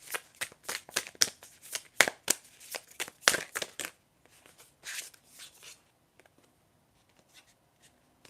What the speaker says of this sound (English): I'm going to shuffle to see if anything else comes up with tarot